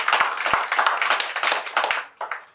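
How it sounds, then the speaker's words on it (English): Audience clapping for two consultants at a publication launch event, a short burst of scattered, fairly close hand claps that thin out and briefly pick up again near the end. "Let's give our two consultants a round of applause."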